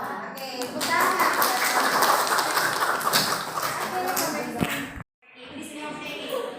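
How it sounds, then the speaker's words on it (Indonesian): Students in a classroom clap their hands together in a loud, dense burst that lasts several seconds before cutting off abruptly, with children's voices mixed in. "Tepuk tangan."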